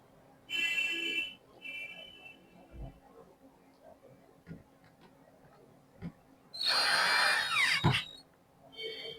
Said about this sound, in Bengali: এটা মেশিন দিয়ে টাইট দেওয়া হচ্ছে নাটগুলা